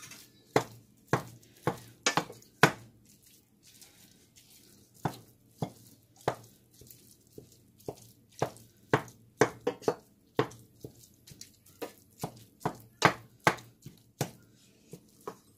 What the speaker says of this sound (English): I'm just going to get this all mashed up, and then I'm going to start adding some seasonings into the meat.